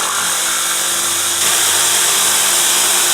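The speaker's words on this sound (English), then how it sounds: "Drill a hole, pop the good old jigsaw through." Jigsaw cutting through marine plywood for a small screen printer frame, a steady buzzing whine of the blade running continuously and close up, without pause or talk.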